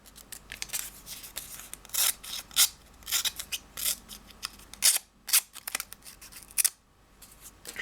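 A sharp Cold Steel Pro Guard neck knife slices through stiff paper, producing a rapid series of crisp, close, scratchy rasps and rustles, with short pauses between cutting strokes.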